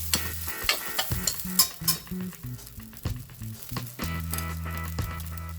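Noodles stir-fried in a wok for Hong Kong style soy sauce noodles: repeated close scraping and clanking of the spatula against the metal over a soft sizzle, in irregular bursts, no voices.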